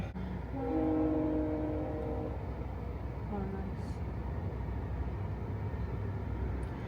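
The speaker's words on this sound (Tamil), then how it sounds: "இதுதான் கோ ட்ரெயின் டவுன் டவுனுக்கு போகிறது" A GO commuter train in Canada rumbles past steadily in the rain, with a brief horn-like tone early on over continuous rail noise, and no one speaks.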